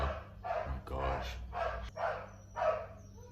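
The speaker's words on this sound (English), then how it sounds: "I don't like my neighbor's dogs. Anyways, they bark at the worst times." A neighbour's dogs bark in a series of about five separate bursts spread across a few seconds, sitting at moderate level beneath a steady low hum in the background.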